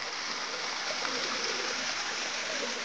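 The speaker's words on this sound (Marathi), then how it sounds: "तेच पाणी वाहत खाली इथे इथपर्यंत येत आहे" Water of a stream runs down from the Nhavankond waterfall near Devgad, a steady broad rushing wash, fairly close and continuous with no break.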